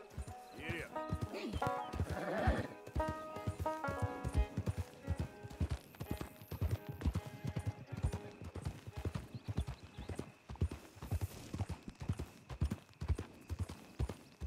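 Steady clip-clop of horse hooves trotting at an even pace in the video game Red Dead Redemption 2, with a short neigh early on and game music faintly underneath.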